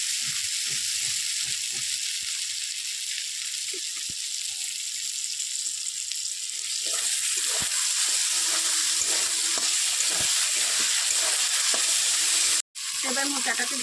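Spiced banana flower curry fries in hot oil with a steady, close sizzle and occasional stirring scrapes, ending in a brief sharp knock.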